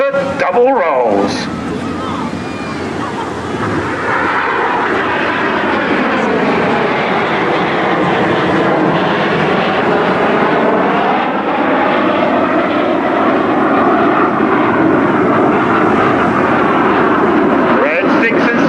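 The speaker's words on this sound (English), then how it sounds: "In from the left and the right, the synchro pair, about to perform the double rolls." Red Arrows synchro pair jets at a seaside airshow performing double rolls: a loud, sweeping roar that swells and shifts in pitch as the aircraft pass, with a commentator's voice over it.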